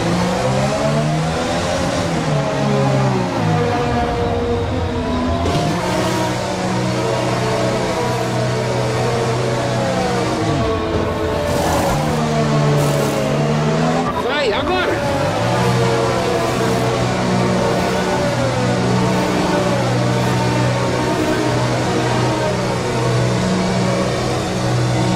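F1 2020 race cars run on track behind the safety car, engines droning and shifting pitch continuously at steady, loud volume for the whole stretch, with gear changes and rising and falling revs.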